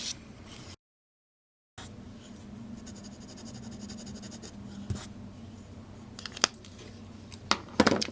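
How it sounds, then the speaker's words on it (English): A pen writes in Noodler's Fox red ink on Blick 50-pound white sulfite drawing paper, giving a close, soft scratching that runs steadily after a brief dropout, ending with a few sharper taps and clicks. "that concludes our writing sample on the Blick 50-pound white sulfite drawing paper"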